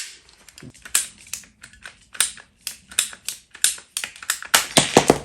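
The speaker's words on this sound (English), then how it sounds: "So I'm gonna cut it with a pipe cutter." A pipe cutter bites through flexible electrical conduit during a wall charger installation, heard up close as a quick, irregular run of sharp clicks and ratcheting snaps that gets denser and louder toward the end, with no talk.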